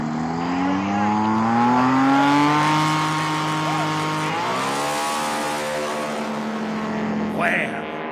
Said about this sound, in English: Listen to this RPM of this engine.